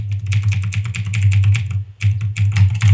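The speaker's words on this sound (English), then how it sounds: "I got a new keyboard, so this can be even louder too" Rapid clicky typing on a new computer keyboard, close and busy, with a brief pause midway, over a steady low electrical hum.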